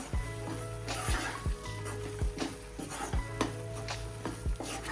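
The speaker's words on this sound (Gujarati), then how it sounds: "દૂધ નાખી અને ફટાફટ હલાવતું રહેવાનું છે, નહીંતર તળિયે દાજી જાય છે" A spoon stirs milk into gram flour for mohanthal in a pan with steady, rhythmic scrapes every second or so, while background music plays throughout.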